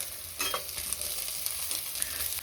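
Ten dried red chillies and a tomato sizzle in a frying pan for a chicken curry, a steady close hiss broken by clinks and scrapes of stirring.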